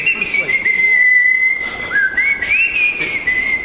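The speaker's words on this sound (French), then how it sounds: "Le monde me désire parce que je siffle." A person whistles a wavering, melodic tune for several seconds, close and clear, with pitch sliding up and down and brief pauses, over faint background murmur.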